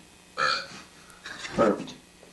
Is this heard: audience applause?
no